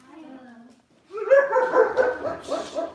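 Several small dogs bark and yip close by in a home, a short volley of sharp barks following a brief stretch of a person talking.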